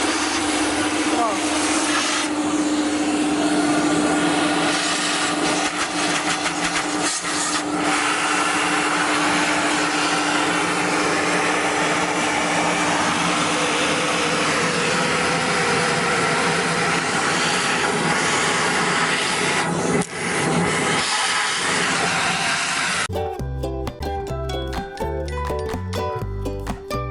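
A powerful household vacuum cleaner running during house cleaning, a loud continuous whooshing roar with a steady motor hum, and near the end the sound cuts over to music.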